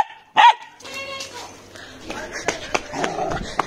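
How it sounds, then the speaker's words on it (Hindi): A big, mischievous dog gives a loud yelp or bark near the start, then some scuffling and faint household sounds follow while someone talks. "बड़ा कुत्ता है, बहुत शैतान है"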